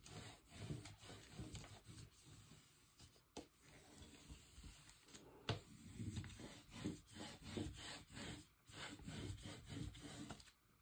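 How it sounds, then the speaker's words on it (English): Paper being burnished by hand on a Graphic 45 scrapbook dos-a-dos base, a steady series of close, dry rubbing and scraping strokes in irregular rhythm with no talking. "Turn it over, burnish it on the other side real well."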